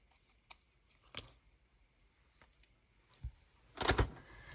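Scissors trimming paper for a junk journal, a few quiet separate snips spread out in a hushed room, ending with a louder cluster of crisp cuts.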